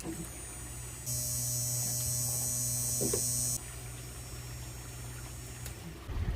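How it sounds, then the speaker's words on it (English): A small electric pump on a fishing boat starts after being plugged in, giving a steady low mains-like hum with a higher whining buzz that runs for a couple of seconds, then settles back to a constant drone. "Alright, our pump is working."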